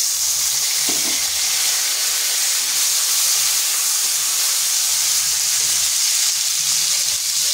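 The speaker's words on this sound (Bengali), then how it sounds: "দিয়ে দিচ্ছি একটা মিডিয়াম সাইজের টমেটো।" Hot oil with cumin, cinnamon pieces and cardamom sizzles steadily in a pan as a medium tomato goes in, a loud, even hiss throughout with a faint thud near the start.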